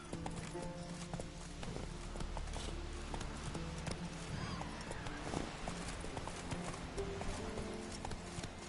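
A horse in The Witcher gallops with rapid, continuous hoofbeats over game ambience, and a neigh rises partway through; it sounds fairly distant and quiet.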